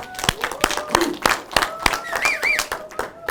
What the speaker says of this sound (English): please, a warm welcome, round of applause to Mr. Benny Salas.